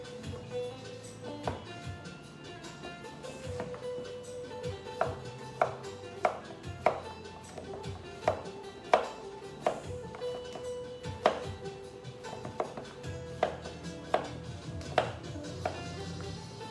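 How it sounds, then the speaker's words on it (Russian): A knife chops cucumber on a board for a salad, a steady run of sharp, close taps with short pauses between, over a soft background hum and no talk. "нарежем с вами огурчик"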